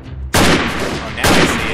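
Two loud, close gunshots less than a second apart in the guerrilla-warfare game Freeman Guerrilla Warfare, each with a sharp onset and a short ringing tail.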